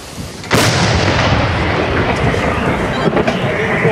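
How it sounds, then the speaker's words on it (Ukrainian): A single heavy shot from a D-20 howitzer in combat booms out sharply, followed by a long rumbling roar that slowly fades. "Гармата, постріл!"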